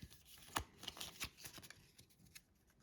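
A deck of game cards being shuffled by hand, with several sharp riffling bursts and soft flutters at close range, quiet overall with no talking.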